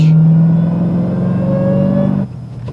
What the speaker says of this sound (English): My rev match downshifting